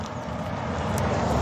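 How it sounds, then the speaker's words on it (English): Road traffic passes close by outdoors, a continuous low rumble of cars that swells slightly toward the end, heard alone without speech. "Sorry, more cars."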